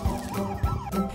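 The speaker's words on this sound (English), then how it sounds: "Here comes an ambulance on the path the plow just made." An ambulance siren in a snowy winter scene, racing along a path cleared by a snow plow, its rising and falling wail sweeping repeatedly, fairly close and alone.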